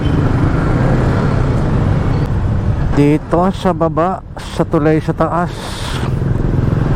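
Road traffic around a moving motorcycle on a congested city street in the Philippines, with vehicles stopped in a jam: a steady broadband rumble of engines and road noise runs throughout, interrupted midway by someone talking over it.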